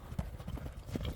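Hooves of a young chestnut horse with a white blaze clip-clop at a walk, a steady run of close, fairly loud footfalls with faint background voices.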